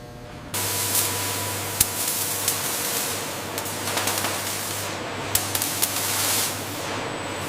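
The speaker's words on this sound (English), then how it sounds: "Next, coating the frame." Coating is sprayed onto a Toyota Land Cruiser frame on a factory production line, a loud, steady hissing spray that kicks in abruptly and runs continuously over a low hum, broken by a few sharp clicks.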